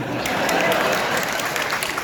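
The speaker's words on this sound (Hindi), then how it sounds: "पति इस पे भी ताली बजा रहा है" Steady applause from a crowd, dense and continuous throughout, with no pauses or single claps standing out.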